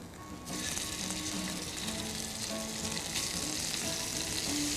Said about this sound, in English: I'm going to brown them in my pan real quick